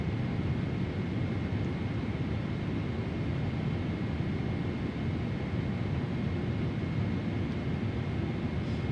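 PMDG 777-300ER airliner cruising in flight in a simulator, a steady dense cabin roar of engines and airflow with a faint constant whine, unchanging for the whole stretch and no talking.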